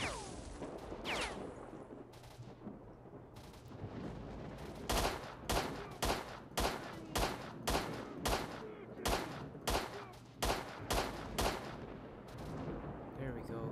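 Rifle shots fired in S.T.A.L.K.E.R. crack out one after another in a steady, evenly spaced series of about a dozen sharp reports, loud and close, after a quieter stretch of ambient noise.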